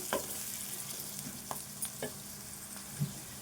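Okra frying in a pan with spices and turmeric: a steady close sizzle, with a few brief scrapes and clinks of stirring scattered throughout and no talking.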